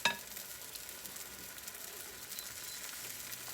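Pancake batter cooking in a hot pan for copycat IHOP pancakes, giving a soft, steady sizzle that stays quiet and even throughout with no voices.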